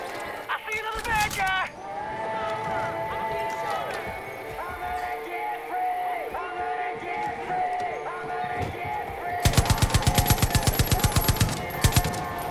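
Gunfire in the video game Far Cry 5, with a rapid burst of evenly spaced shots near the end and a few single cracks, set against game ambience and music while someone talks.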